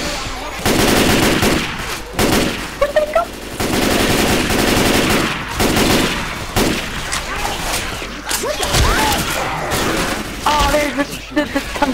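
Gunfire in the zombie shooter Left 4 Dead 2 on PC, with loud sustained automatic bursts and booms filling most of the stretch while players talk excitedly over it.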